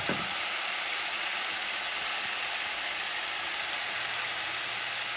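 Minced garlic frying in a hot pan, a steady bright sizzle that carries on evenly throughout, with a faint short clink near the end.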